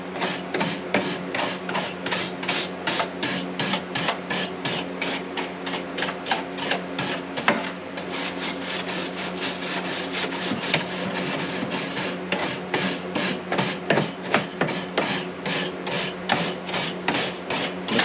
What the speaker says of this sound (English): I'm just basically using a white bristle brush to clean this with.